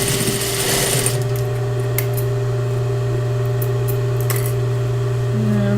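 A sewing machine runs in a steady, continuous hum while stitching down several layers of fabric, with faint clicks and ticks over the motor drone from start to finish.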